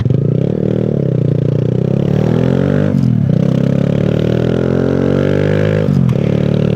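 Honda Z125 motorcycle on knobby tires rides steadily, its engine drone loud and continuous throughout, with a brief dip in pitch near the three- and six-second marks as if shifting gears.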